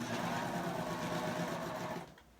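Serger sewing machine finishing fabric for an Easter egg bowl, a steady rapid mechanical stitching whir running close and continuous for two seconds before stopping abruptly, with no talk over it.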